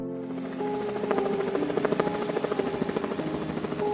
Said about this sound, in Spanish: El helicóptero empezó el descenso.